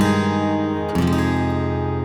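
Guitar walk-down from the verse of Goodness of God, sustained ringing chord tones that shift downward midway as the bass note changes, clear and close with no talking.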